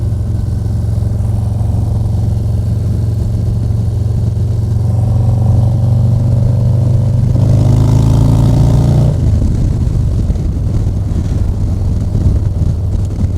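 A 2023 Harley-Davidson Low Rider ST motorcycle cruises on the road, its loud steady engine drone mixed with heavy wind rush and a brief rise and shift in engine pitch midway.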